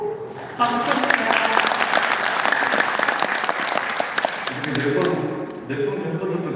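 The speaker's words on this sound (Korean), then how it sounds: "박수 쳐주세요." Audience at a hotel event in Daejeon, ICC Hotel, breaks into loud, steady clapping for several seconds, fading slightly toward the end, with a voice speaking over the start and finish.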